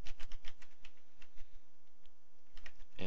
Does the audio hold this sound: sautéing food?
no